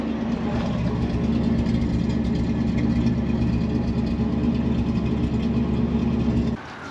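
A 454 big block V8 in a 1992 Holiday Rambler Imperial motorhome idles with a steady, deep rumble close by, running evenly for several seconds before cutting off near the end.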